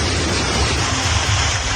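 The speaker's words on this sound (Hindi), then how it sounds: "यहां बड़े इलाके में भारी ओलावृष्टि हुई है।" Heavy hailstorm with downpour in Mexico City, a dense, loud roar of rain and hail hammering surfaces throughout, steady and close with no voices.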